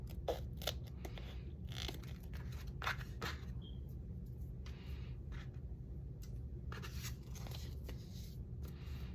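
Scissors snip and slide through paper in a quiet room while a pocket is trimmed in a straight line, giving a series of soft, close crisp cuts and rustles with no talking.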